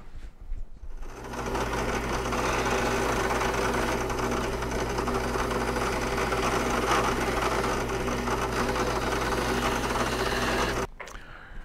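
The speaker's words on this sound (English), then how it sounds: "I go back to the spindle sander and I give it just a little truing up." A spindle sander trues the edge of a leather holster, giving a steady, loud motor whir with a gritty grinding texture that holds evenly for about ten seconds before cutting off.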